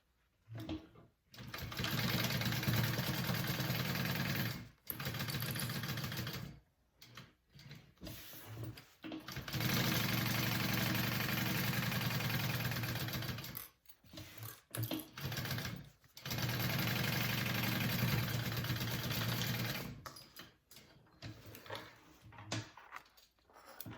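Sewing machine basting the sides and bottom of a fabric duffel bag, rapid even needle stitching in several long bursts separated by short pauses, close and clear with no voices.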